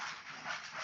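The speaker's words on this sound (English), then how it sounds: "Sorry, that's my dog." A pet dog pants steadily in short breathy bursts with a faint whimper, close to the microphone and continuous with no talking.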